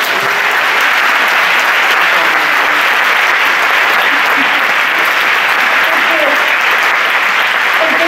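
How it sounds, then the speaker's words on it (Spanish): An audience breaks into continuous, dense applause that holds at a steady, loud level from start to finish with no pauses or voices. "les damos un aplauso"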